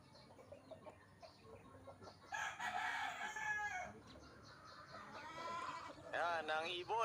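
Fighting cock crowing at a rural training spot: a couple of loud crows rising and falling, plus clucks and other fowl, with someone speaking faintly in the background.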